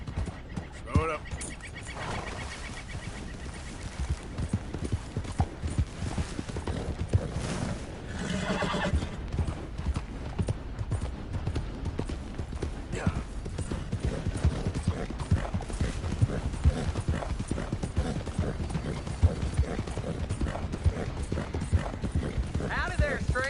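Rhythmic clip-clop of horse hooves in Red Dead Redemption 2 continues throughout, with a whinny early on and occasional voices in the background.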